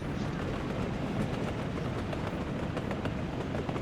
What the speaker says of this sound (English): it honestly sounds as if another train has just joined us